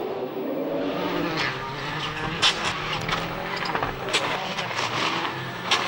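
GT rally cars compete in a Belgian championship round, the Rallye Ardennes Bleu: a loud, steady engine roar with brief sharper bursts as cars pass, and a commentator speaking over it.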